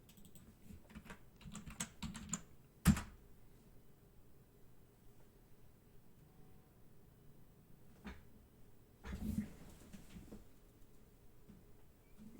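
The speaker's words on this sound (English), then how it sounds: "Maybe I'm typing it in wrong." Keys tap on a computer keyboard in a quiet room during stock trading, a few soft clicks spread out with one sharper keystroke and a short burst of typing later.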